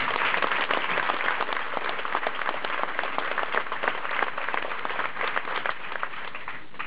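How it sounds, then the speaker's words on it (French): Sustained applause from a large crowd at a bullfighting clubs' general assembly in 2010, dense steady clapping that holds at an even level throughout with no voices. "J'aimerais tout simplement deux applaudissements pour ces deux cocardiers de ce soir."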